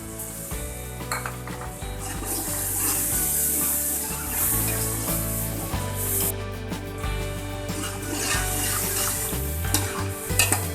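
Masala for matar murgh biryani fries and sizzles in a pan with steady hissing, broken up by a spoon stirring and scraping against the metal and a few clinks of utensils, close and continuous.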